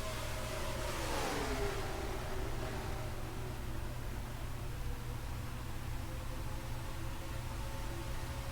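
Race truck engine in an iRacing oval race at Kansas, heard from onboard as a steady, droning roar with a brief rising whoosh early on, continuous throughout without voices.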